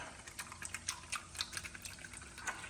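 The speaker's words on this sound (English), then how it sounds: "I'm going to take 2 tablespoons of cornstarch and put in ½ cup of water" Two tablespoons of cornstarch being stirred into half a cup of water, a quick series of light clinks and liquid swishes close by in a quiet kitchen.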